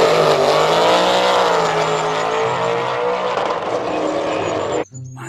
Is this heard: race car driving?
yes